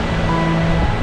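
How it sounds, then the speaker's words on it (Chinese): Strong wind drives high waves onto a wide sandy beach on the northeast China coast at dusk, producing a steady, loud roar of surf and wind buffeting with no voices. "今天的风很大，所以说今天的海浪也变得特别的高呀"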